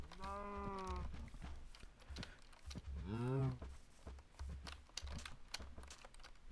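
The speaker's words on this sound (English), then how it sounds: "Come on, cows." Cows in a video game give two drawn-out moos, one early and one midway, over steady rapid computer keyboard typing and a low background drone.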